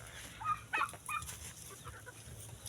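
Black Australorp chickens clucking in a backyard coop, several short clucks in scattered bursts, fairly close, with low background noise and no talk.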